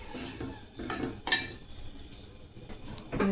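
Metal utensils clatter and scrape against a pan as food is stirred, with a few sharper clinks and scrapes standing out over a low kitchen background.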